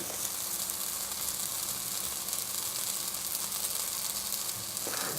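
Bread fries in olive oil in a pan for an egg-in-bread breakfast, giving a steady, fairly soft sizzling hiss that continues unbroken throughout with no talking.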